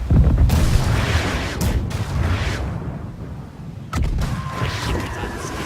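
Ship cannons boom in a ragged broadside during a Blackwake naval battle, heavy blasts and rumbling bursts mixed with shouting crew voices.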